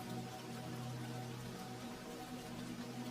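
Rain falls outside a window as a soft, steady hiss of drops, even and unbroken with a faint low hum beneath, heard from indoors.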